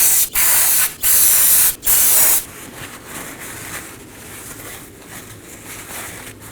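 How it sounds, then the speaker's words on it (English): Brake cleaner sprayed onto the rear wheel hub of a 2018-2024 Chevrolet Equinox during a bearing and hub replacement: three loud, close hissing bursts with short gaps, then a fainter, steady hiss with soft rustling. "Now I'm going to clean everything up with some brake cleaner and a clean rag."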